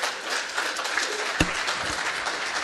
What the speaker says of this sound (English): maybe it's the moment to repeat the applause